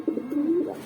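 Domestic pigeons at a Gazipur pigeon farm, a grizzle/beauty breeding pair, give a close, clear coo of several soft rolling notes.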